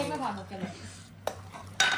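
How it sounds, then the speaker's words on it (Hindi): Plates and dishes are scrubbed and washed, with close clinks and clatters of dishware against a background of running-water hiss; a voice speaks briefly early on. "तो धो देंगे प्लेट रगड़ने के लिए तैयार"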